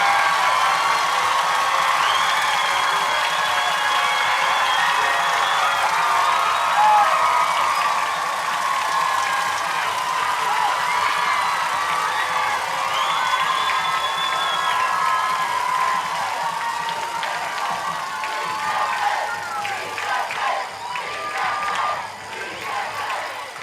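A loud, dense stadium crowd roars and cheers continuously after a touchdown at a Texas UIL 5A high school state semifinal football game, sustained applause and whoops swelling and easing, with faint voices mixed in.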